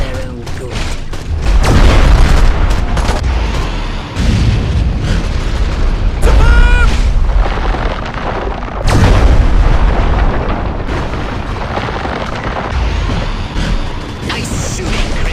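Martian ray guns in the 1996 sci-fi comedy Mars Attacks! fire in a loud, chaotic barrage of booming blasts and crackling zaps, with warbling electronic sweeps piercing through the dense din.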